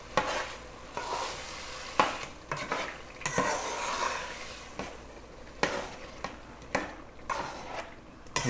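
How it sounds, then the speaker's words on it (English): Goulash sizzles in a pan while a utensil stirs it in irregular scraping strokes, each stir a short burst over a low, steady frying hiss; close and fairly quiet, with no talking. "Now you just want to stir it up."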